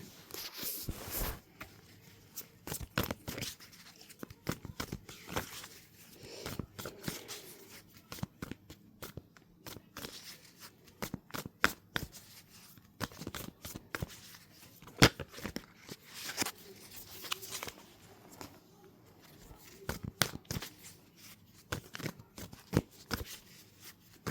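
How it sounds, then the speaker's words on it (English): Tarot cards being shuffled by hand, repeated quick riffling and flicking bursts in an irregular rhythm, close and fairly soft, with no voice. "I'm going to pull a few cards on these dark cards and just get more information."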